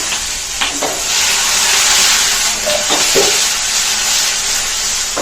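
Seven green chillies and a large onion hit hot oil in a pan, setting off a loud, dense sizzle that swells and then holds steady, with a few soft clinks of stirring and no talking.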